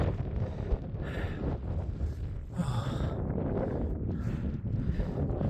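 Steady, heavy wind buffets the microphone on a Lake District fell near Grey Friars, a continuous low rumble with gusty swells and no clear voice.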